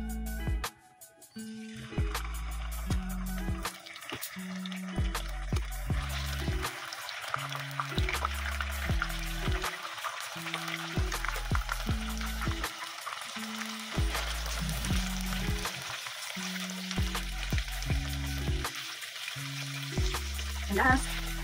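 Tofu pieces fry in hot oil in a wok, giving a steady, close sizzle that runs throughout with occasional crackles and faint music in the background.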